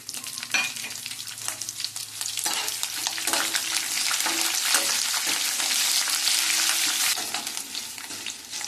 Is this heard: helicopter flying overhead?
no